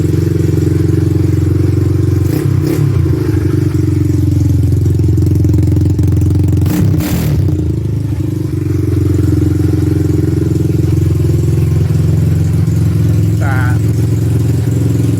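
A Honda ATC200X three-wheeler engine idles loudly and steadily with a throaty aftermarket exhaust drone, briefly revved once midway, with a voice heard faintly near the end.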